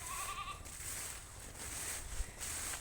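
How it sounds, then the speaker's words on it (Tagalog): A goat gives a short, faint bleat early on, then quiet farmyard background follows with no talking. "May babae kasi ditong kambing, yun siguro binabalik-balikan niya."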